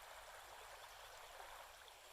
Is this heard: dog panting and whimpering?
no